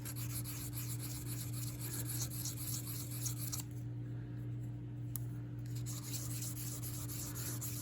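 Steady rasping rub of a fine abrasive smoothing worn high spots on Marlin 81-DL .22 rifle trigger parts, continuous close strokes over a constant low hum, briefly pausing midway before resuming.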